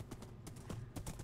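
Horse hooves clip-clopping in a Minecraft-style video game, soft irregular clopping steps repeating at a steady walking pace, quiet and close with no talk.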